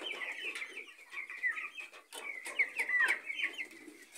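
Chickens on a poultry farm cluck steadily in a busy, continuous stream of short calls, fairly close and without talk.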